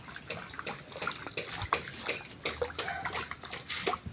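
Guava leaves are washed by hand in water, giving soft, irregular splashes and sloshes at close range with no talking.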